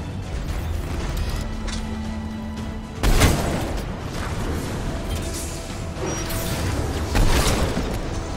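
Grenade explosions in the video game Mass Effect 3 during an assault on a Cerberus base, with two distinct booms a few seconds apart over a noisy battle background.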